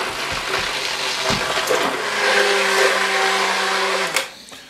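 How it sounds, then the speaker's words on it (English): A stick blender whirs loudly and steadily in a pot of potato, pea and bacon soup, its motor pitch shifting as it churns through the liquid, then cuts off abruptly near the end. "I'm going to use my stick blender and blend it straight in the pot."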